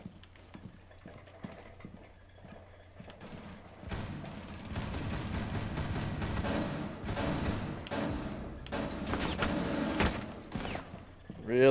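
Rapid suppressive gunfire in a first-person shooter video game, dense bursts of shots layered with game sound effects and loud cracks, especially from the middle onward, with a voice talking over it.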